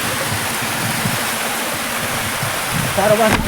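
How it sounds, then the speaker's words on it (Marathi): A monsoon waterfall in the hills near Kelavane roars steadily nearby, a constant rushing wash of water filling the whole clip, with a brief louder splash near the end. "तर हा आहे धबधबा"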